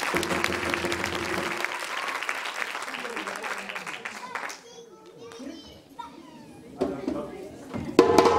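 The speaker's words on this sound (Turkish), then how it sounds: "alkışlıyoruz tabii ki" Children and adults applaud at a kindergarten rhythm show, with brisk clapping for the first half that fades out, then scattered children's voices and a few claps and knocks.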